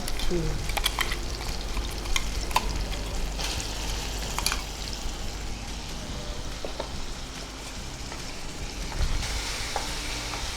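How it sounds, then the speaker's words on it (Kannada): Plain mint rice fries in a pan with a soft, continuous sizzle and occasional stirring clicks and scrapes, close but fairly quiet and unaccompanied by speech. "ಹಾಗೆ ಫ್ರೈ ಆಗ್ತಾ ಉಂಟು"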